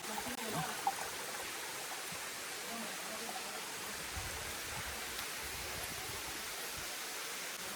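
Waterfall and stream in Nallamala forest pouring over wet rocks, a steady broadband rush of water filling the whole clip at moderate level with no talk.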